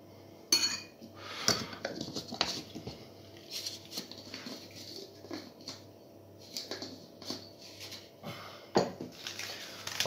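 A metal spoon clinks against a dish while black pepper is spooned into a chicken kebab marinade, with a series of light, irregular taps and scrapes at close range.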